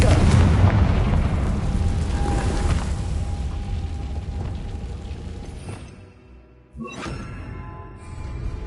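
Confringo fire spell in Hogwarts Legacy, a series of loud booming blasts with rumbling tails over continuous game ambience, a voice calling out between them.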